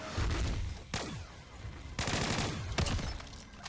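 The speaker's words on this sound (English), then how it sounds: "these guns sound great" Upgraded guns fire in Black Ops 3 Zombies on the Origins map, with loud repeated bursts and several heavy blasts ringing out close and alone over about four seconds.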